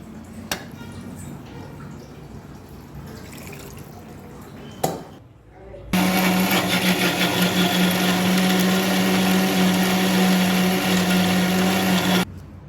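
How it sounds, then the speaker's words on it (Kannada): An electric mixer grinder whirs loud and steady for about six seconds, grinding spices, coconut and onion into a paste for a fish curry, after quieter kitchen handling sounds and brief talk. "ಈ ಥರ ರುಬ್ಕೊಳ್ಳಿ."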